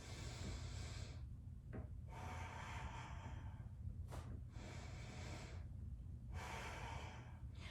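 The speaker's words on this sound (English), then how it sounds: "Ideally, the inhale would be through the nose, and the exhale through the nose." Strong nasal breathing during an arm-pumping mat workout, with loud, rushing inhales and exhales through the nose in a steady repeating rhythm, close to the microphone and with no talk.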